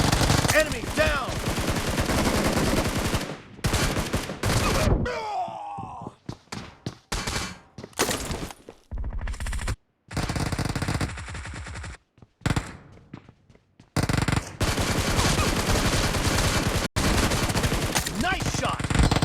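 Bursts of video game gunfire in a BGMI team deathmatch ring out in rapid automatic volleys, broken by short pauses and scattered single shots, loud and close throughout the battle.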